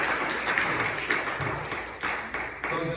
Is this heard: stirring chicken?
no